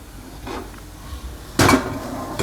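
A metal cooking pot set down on a second gas burner in a home kitchen, heard as a faint light knock followed by one sharper, louder clank against the burner grate, with quiet background hiss and no talk.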